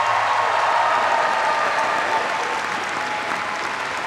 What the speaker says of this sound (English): I would like all the graduates, and I mean this, only the graduates, to give yourselves a big round of applause.